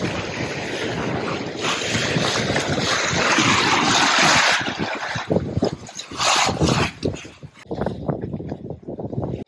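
Strong wind of about 18 knots, gusting higher, roars across a sailboat running downwind in choppy three-foot seas, a loud rushing buffet over the mic with water splashing and breaking in bursts.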